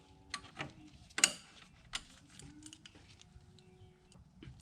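Work on a 1994–97 7.3 Powerstroke, a 13mm socket ratchet breaking alternator bolts loose: scattered metallic clicks and clacks with a couple of sharper knocks, close and quiet, no talking.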